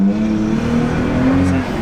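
A 2016-or-later Toyota Tacoma pickup fitted with a Pedal Commander throttle controller revs its engine, a close, loud, steady droning roar that holds through the short moment without speech.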